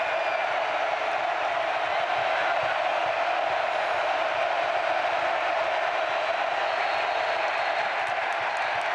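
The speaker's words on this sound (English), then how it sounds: "Let the crowd speak to you." Stadium crowd at a Nebraska college football game against Indiana roars in a steady, dense wash of cheering and applause, loud and unbroken throughout with no clear voices standing out.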